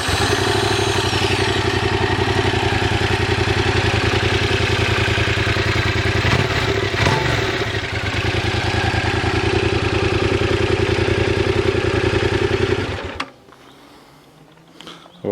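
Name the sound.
Yamaha MT-07 motorcycle engine idling, stock exhaust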